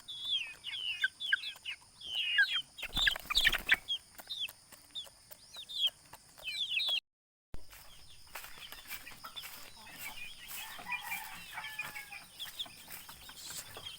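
Native chickens in a provincial yard, a rooster with week-old chicks, cluck and cheep in scattered high peeps and soft clucks, close and fairly quiet with a brief silent gap midway.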